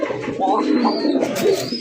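A Rajgolla pigeon, a fancy breed, coos in a short, close, rolling call that repeats with soft pulses over a low murmur.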